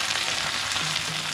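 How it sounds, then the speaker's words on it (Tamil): Fenugreek seeds frying in sesame oil give a dense, even sizzle and crackle, close and steady, with no voices over it. "வெந்தயம் வந்து நல்லா பொரியணும்."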